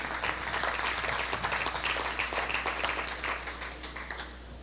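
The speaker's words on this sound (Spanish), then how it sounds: "un aplauso al Señor." Church congregation applauding together, a fairly steady wash of claps at moderate level that fades slightly toward the end, with a low hum underneath.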